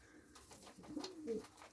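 Homing pigeons coo softly inside a coop, with a low, throaty call swelling near the end over quiet background noise.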